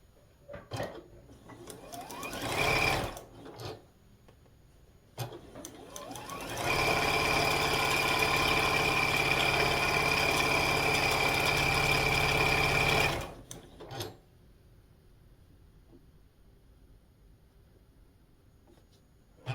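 A sewing machine stitches quilt pieces for a snowman quilt block, first in two short whirring bursts, then in one long steady run of about six seconds, falling quiet afterward.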